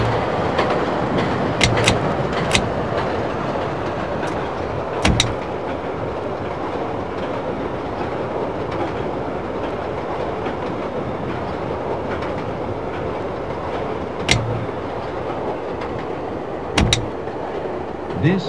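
A Chicago Brown Line elevated train in the game Railfan rolls steadily, with continuous rail rumble and periodic sharp clicks of wheels over rail joints, close and sustained.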